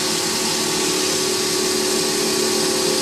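A pen lathe spins at about 9,000 rpm while thin coats of CA finish are wet sanded with micro mesh pads, giving a steady, loud whirring hum with a bright, even hiss that holds unbroken throughout.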